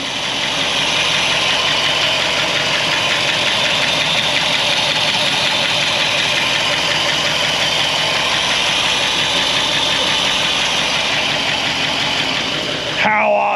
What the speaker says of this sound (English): We noticed holes in the exhaust, and it sounds like it